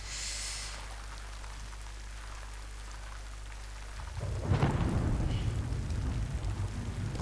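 Steady rain and rolling thunder from the video game Death Stranding, a constant hiss that swells into a loud, deep thunder rumble partway through and stays heavy to the end, with no talk.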